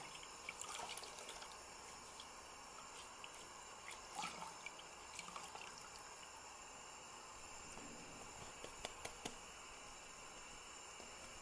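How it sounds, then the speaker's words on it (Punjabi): A cotton dupatta being soaked in water, faint continuous watery sloshing and trickling with scattered small splashes, close but quiet, no voices. "ਇਹਨੂੰ ਚੰਗੀ ਤਰ੍ਹਾਂ ਖੋਲ ਕੇ ਆਪਾਂ ਨੇ ਐਂ ਦੇਖੋ ਗਿੱਲਾ ਕਰ ਲੈਣਾ"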